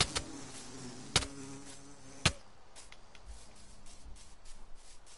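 Bees buzzing in Minecraft, a faint insect drone with a few sharp clicks early on, continuing low and steady throughout.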